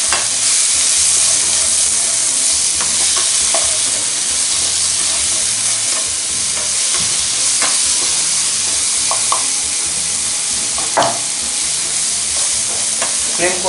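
Okra masala with spices sizzles and fries in a hot pan over high flame while a spoon stirs it, giving a loud, steady hiss broken by soft scraping clinks throughout, with no talk.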